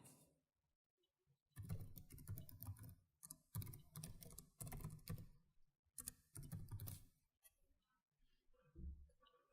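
Bursts of rapid computer keyboard typing while entering an account description, dense clicking in several runs separated by short silences, close and fairly quiet.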